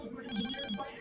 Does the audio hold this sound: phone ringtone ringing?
yes